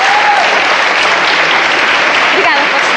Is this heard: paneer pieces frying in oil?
no